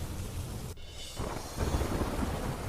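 Monsoon rain in Saputara, Gujarat, roars as a dense, steady wash of noise with a low rumbling undertone, loud and continuous with no voices.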